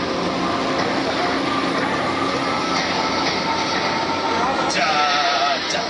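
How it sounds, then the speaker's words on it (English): Studio tour tram rolls along at a steady pace, a loud continuous rumble with faint wheel squeals and a brief high screech near the end, nearby voices murmuring underneath. "The tram is still in motion."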